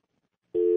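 Silence, then a steady electronic telephone tone abruptly switches on and holds, clear and even.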